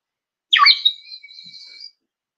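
A water-filled bird whistle blown once, giving a single warbling, trilling tone that starts with a burst and holds a steady whistle for about a second and a half before stopping.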